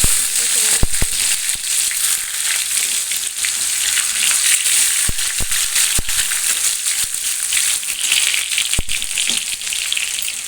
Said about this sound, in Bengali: আমি ক্যারি পাতা ফোড়ন দিয়ে দিলাম।